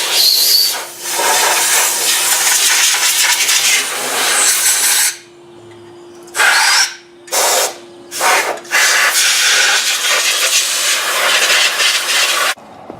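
Compressed air blasts through the passages of a Mopar 360 engine block, with a loud sustained hiss broken by a pause and several short bursts before a long final blast.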